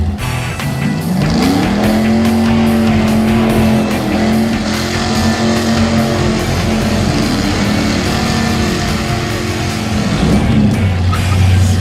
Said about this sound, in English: Driver's gonna attempt to warm up our drag radials.